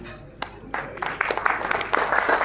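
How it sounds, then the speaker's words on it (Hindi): Applause for children being honoured at an education conference, a few scattered claps at first, then swelling into steadier clapping from a crowd over the last half. "तालियां, please."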